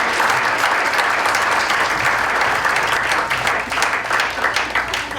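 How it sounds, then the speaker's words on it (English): At a school Hall of Fame ceremony, a crowd applauds the boosters for putting on the show with steady, moderately loud clapping that fills the room, dipping and swelling a little in the final seconds. "I'd like a big round of applause to the boosters for putting on this show."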